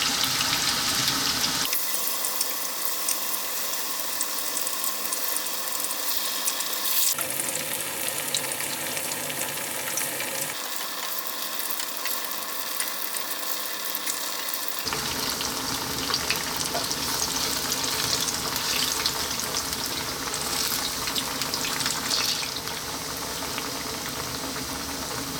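Plantain slices frying in hot oil, a loud, dense crackling sizzle that runs continuously and close by, with brief dips and surges as pieces shift in the pan.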